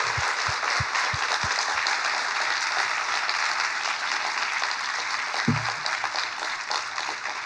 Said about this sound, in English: Maybe everyone can join me in applauding Paris for a really wonderful talk.